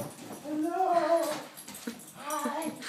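A dog whines and whimpers in high, drawn-out yelps with a few short sharp cries, close up, while a person talks excitedly over it.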